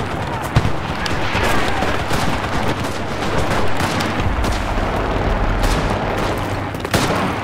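Gunfire in the World War II shooter game Enlisted, from a player using a sniper rifle, with dense continuous shots and booms, sharp louder cracks standing out near the start and end, and talk mixed in.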